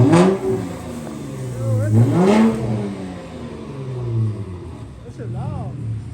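An Infiniti Q50 with a muffler-delete exhaust revs loudly in rising and falling surges, a rough deep roar close by, while several voices talk over it.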